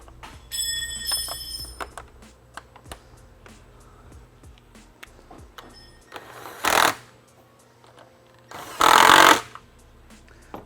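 Two bolts going back in on a 2011-2014 Mustang GT during a Project Odin install, heard as a couple of loud, short tool bursts after scattered faint clicks and taps nearby.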